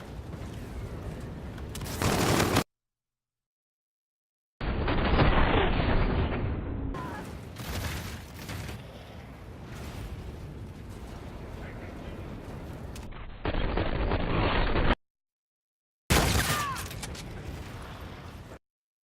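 Model 2187 shotgun blasts in Call of Duty: Infinite Warfare multiplayer, loud, close bursts of gunfire in several dense stretches broken by short silent gaps.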